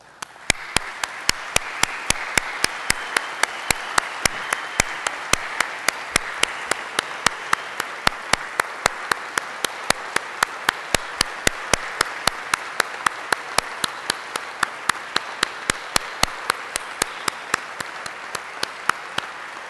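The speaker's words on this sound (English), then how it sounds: "let us give you a round of applause" Attendees at the AIAA 2012 Space Conference applaud members of the Curiosity rover team, sustained dense clapping from a large hall crowd with sharp individual claps punctuating it throughout, steady and loud.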